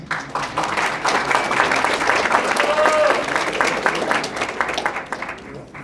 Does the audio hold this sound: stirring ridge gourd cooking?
no